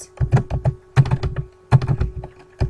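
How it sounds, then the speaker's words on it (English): Close, steady typing on a computer keyboard in clustered bursts of keystrokes with short pauses between them, no voices. "Now to add your subtitle, you're going to want to type your name, probably the class"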